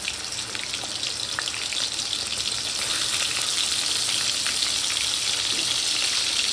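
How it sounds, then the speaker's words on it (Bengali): Prawns coated in salt and turmeric fry in a pan with a steady, close sizzle that holds even and unbroken throughout, with no voices. "এবার এর মধ্যে আগে থেকে নুন হলুদ মাখানো চিংড়ি মাছটা দিয়ে দিচ্ছি।"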